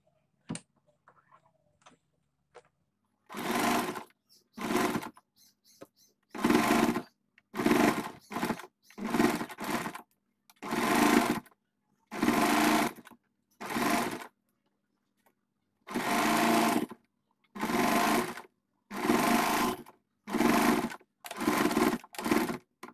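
A sewing machine stitches down the center of a fabric frill in repeated close, loud bursts of rapid running, separated by short pauses, with no talking.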